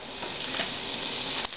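A full stick of butter melting in a pot for New Orleans oyster and artichoke soup, giving a steady close hiss and sizzle with a slight bump near the end.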